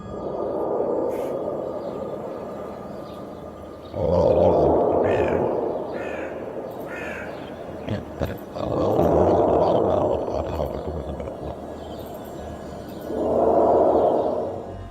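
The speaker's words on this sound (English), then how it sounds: "The repeated noise coming from a distance sounds like a mysterious metallic roar." A mysterious metallic roar sounds repeatedly from far off, long droning swells recurring every few seconds, with fainter rough calls in between.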